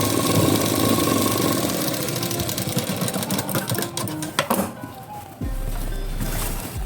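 Sewing machine stitching a blouse sleeve, a rapid mechanical whirring run that slows and stutters with clicks near the end, followed by a steady hum, recorded close with no talk.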